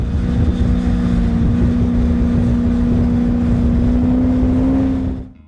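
A Lazareth LM847, a four-wheeled motorcycle with a 4.7-liter V8 car engine, runs with a loud, steady, deep rumbling drone that holds even for about five seconds before cutting off abruptly.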